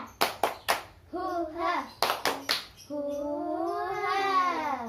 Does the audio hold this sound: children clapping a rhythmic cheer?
yes